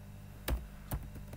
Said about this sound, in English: So just type